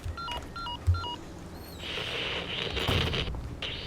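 Telephone keypad tones in Resident Evil 4 Remake ring out as a quick run of short, regularly spaced beeps, followed by a hissy electronic burst and faint clicks.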